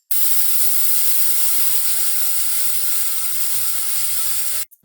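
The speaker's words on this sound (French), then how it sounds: "vous pouvez prendre votre poêle la plus chaude, déjà graissée, et le mettre dedans." Tofu fries in a very hot greased pan, giving a loud, even, continuous sizzle and hiss close up that holds steady for several seconds, then cuts off abruptly near the end.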